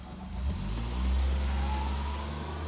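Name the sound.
car passing by outside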